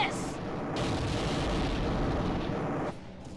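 A flamethrower blast in Valkyria Chronicles 2 roars as a loud, sustained burst of dense rushing noise for about two seconds, then cuts off abruptly.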